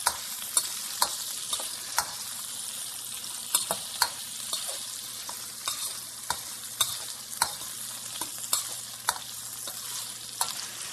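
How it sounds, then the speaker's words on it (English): Paneer cubes fry in sesame oil, giving a steady close crackling sizzle with frequent sharp pops and spatters scattered throughout, no voices. "We just want to fry this up so it's kind of got that nice crispy exterior to it"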